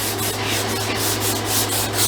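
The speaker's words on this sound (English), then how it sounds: "I'm sanding these scratches lightly." Rhythmic back-and-forth rubbing of sandpaper on a wooden gun stock, a close, steady scratchy hiss repeating in even strokes.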